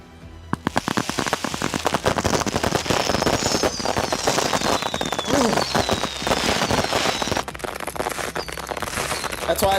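A Fate/Grand Order battle attack erupts as an explosive barrage. Dense, rapid-fire bursts pound continuously for nearly ten seconds, laced with whooshing, sweeping effect tones, loud throughout.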